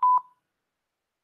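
Two quick telephone keypad tones beep in close succession and are followed by silence.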